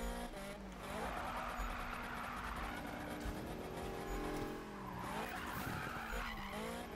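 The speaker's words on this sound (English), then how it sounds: "you just turn into a corner hard enough, fast enough, it will drift" A VW Golf GTI drifts through a corner in the Need For Speed (2015) racing game, tires skidding in a long, continuous screech over a steady engine drone, loud and close throughout.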